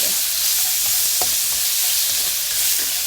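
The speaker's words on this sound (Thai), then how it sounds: "ผัดพอเข้ากันแบบนี้นะคะ ใส่เต้าเจี้ยวลงไปเลย" Pork stir-fries with fermented soybean paste in a hot pan for a stir-fried eggplant dish, producing a loud, continuous sizzle with scraping stirs of the spatula and no talking.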